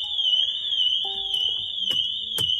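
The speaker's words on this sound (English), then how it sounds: "Turn off the alarm." A Pandora car alarm fitted to a Mercedes-AMG C63 W205 sounds a steady, piercing high-pitched tone that holds throughout, with a few brief electronic chirps and beeps layered over it.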